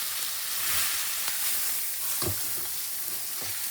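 Pork shoulder searing in a hot pan and being turned over with a fork, an even bright sizzle with a few soft scraping knocks as the meat is moved, no talking.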